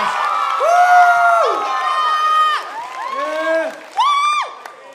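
A crowd at the final day of RevFest, a school festival, cheers for the grade 12 students with loud, high whoops and shouted voices rising and falling over continuous crowd noise and some clapping.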